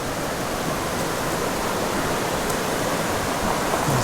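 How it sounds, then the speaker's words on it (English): A waterfall near Gambita, Colombia roars in a constant, broad hiss of falling water, close and steady for the whole stretch with no voices. "Another waterfall up ahead."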